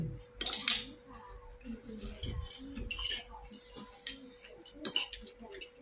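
A spoon clinks against a plate while papaya salad and green mango salad are tossed together, giving a few bright, close metallic taps among softer rustling, with a person talking throughout.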